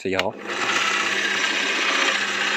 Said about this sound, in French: Je perce à l'œil.